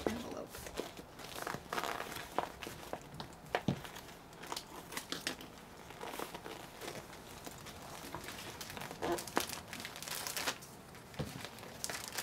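A plastic flat rate shipping envelope is handled up close, giving repeated crinkling and crumpling rustles in irregular bursts at a soft level, mixed with light handling noise and quiet speech.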